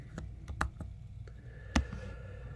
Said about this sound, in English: I'm going to type 2D math grid.